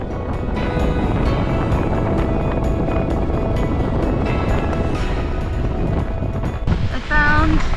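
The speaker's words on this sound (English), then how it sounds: "It's still pretty windy" Strong wind gusting across the open Black Mountains, a steady loud roar buffeting the microphone throughout, with a brief lull near the end.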